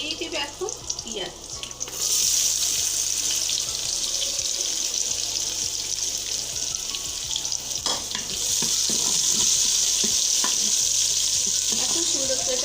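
Onions sizzling in oil in a pan while making pulao, a loud, constant close crackle with a short quieter stretch near the start and occasional stirring knocks.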